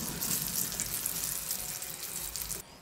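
Food frying in hot oil in a pan, a dense hiss and crackle of sizzling that carries steadily until it cuts off near the end, with no talk over it.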